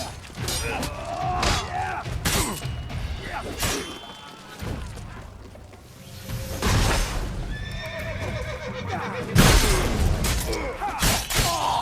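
Horses in The Witcher 3 neigh and whinny repeatedly amid clip-clopping hooves, thuds and clattering game effects, loud and close, with some voices mixed in.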